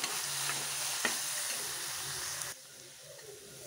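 Onion with coriander and chili powder sautés in a pan for a mango curry, giving a continuous close sizzle with a scrape of stirring, then the hiss drops abruptly quieter partway through.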